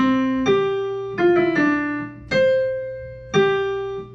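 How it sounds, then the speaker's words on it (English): Piano notes struck one after another in a melodic figure, each ringing and decaying, outlining a rising fifth; clear and close with no talking. "That perfect 5th sounds like this."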